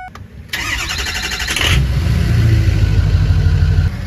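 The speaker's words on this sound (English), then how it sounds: "Let's fire this truck up." A pickup truck's 6.0 Powerstroke diesel engine cranks briefly, then catches and settles into a steady, low rumbling idle close by.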